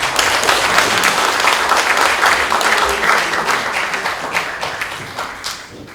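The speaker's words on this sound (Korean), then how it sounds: "고생하신 후보자 모두에게 격려의 박수를 부탁드립니다." Warm, dense applause from the audience at a political party leadership and supreme council candidates' joint rally in Gyeongbuk, steady clapping filling the hall for several seconds and gradually fading toward the end.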